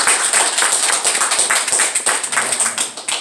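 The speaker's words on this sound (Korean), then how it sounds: "한번 박수해 주시기 바랍니다." A church congregation claps together after an announcement, a dense, steady burst of applause that fills the room for a few seconds with no talking over it.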